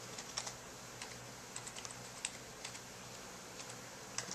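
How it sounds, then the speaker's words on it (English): Someone types steadily on a computer keyboard, with a quick, irregular patter of light key clicks close by and no talk. "Okay, I guess I'll type in Wikipedia."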